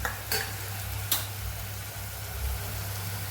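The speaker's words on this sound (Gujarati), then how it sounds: "આ બધું પાછું સરસ સાતળી લેશું" Yogurt mixture for sama pancham sautéing in a pan, a steady soft sizzle with a couple of brief scraping stirs near the start, close and continuous.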